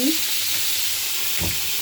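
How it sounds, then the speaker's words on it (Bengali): Koi fish frying in a pan of hot oil gives a steady, close sizzling hiss throughout, with a brief scrape of stirring near the end. "বসিয়ে দিয়েছি কই মাছ ভাজা"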